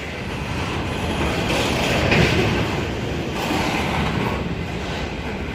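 A city train pulling into Kogarah station as it slows down, a steady broadband rumble of wheels and carriage noise holding close and loud throughout with a brief swell midway, no voices.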